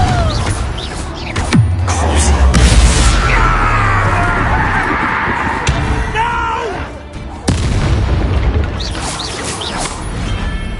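A fiery Confringo spell blast goes off in the video game Hogwarts Legacy amid loud battle noise. Booming, crashing impacts come in bursts over a dense, steady din, with a sharp new burst near the end.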